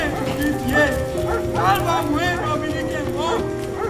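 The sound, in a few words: horses galloping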